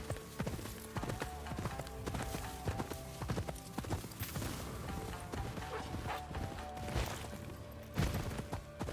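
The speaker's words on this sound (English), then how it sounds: "Our horse is Shimaki." Horse hooves clip-clopping in the video game Ghost of Yotei, a brisk, steady rhythm of sharp hoofbeats, close and continuous, with occasional thumps mixed in and no talk.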